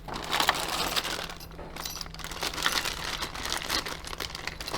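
Top plastic packaging is pulled off a LeHui V2 Vector during an unboxing, giving a continuous close crinkling and rustling with no pauses.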